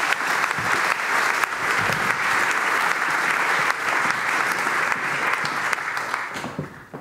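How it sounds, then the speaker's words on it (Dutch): A seated audience gives a panel sustained, even applause of many hands clapping together, holding steady for several seconds before tapering off at the end. "een applaus voor het panel"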